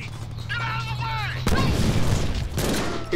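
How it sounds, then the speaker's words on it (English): Grenade blast in the Deadpool video game: a sudden loud boom and crackling burst that follows a moment of game sound and voice, with rumbling debris and noise trailing after it. "I am throwing a grenade!"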